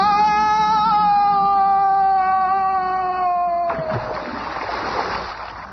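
A long, sustained, slowly falling tonal whistle gives way to a rough splash as a man is dropped into the Atlantic Ocean, with the watery churn fading out afterward.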